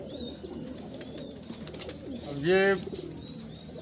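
A Maker pigeon gives one clear, loud coo midway, standing out above soft background bird chirps and murmuring, while someone speaks briefly near the start.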